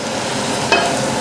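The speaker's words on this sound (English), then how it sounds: "That's that coconut oil burning off." Coconut oil smoking in a hot pan while cooking a prawn korma gives a steady close sizzle, with a brief stirring scrape partway through.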